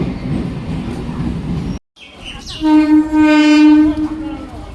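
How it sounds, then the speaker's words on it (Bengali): A train pulls in with a loud, sustained horn blast of about two seconds over its rumble and rail noise, following a brief cut. "ট্রেন চলে এসছে"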